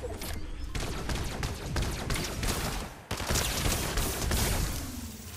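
Rapid bursts from a Fallout Tri-Beam Laser Rifle in the Fortnite video game, dense overlapping shots firing continuously with a brief gap near the middle, loud and close with no talk.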